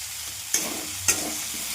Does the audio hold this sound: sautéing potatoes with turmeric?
yes